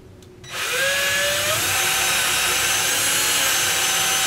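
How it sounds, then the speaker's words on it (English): A power drill bores through a wooden cabinet door for a knob, starting abruptly after a brief quiet moment and then whining steadily and loudly, its pitch rising as the bit spins up and cuts through. "and then go ahead and drill through"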